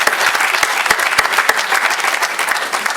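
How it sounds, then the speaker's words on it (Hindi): Crowd at a community event in Noida claps enthusiastically, a loud, steady round of applause with individual sharp claps standing out in the mix. "स्वागत है और तालियों से आपका बहुत बहुत।"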